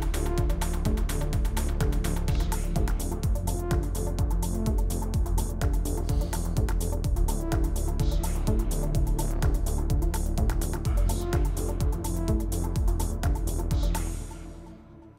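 Track four of a techno live set played on an Elektron Digitakt, with a driving four-on-the-floor custom kick, dense percussion and layered synth tones, loud and continuous before fading out at the end.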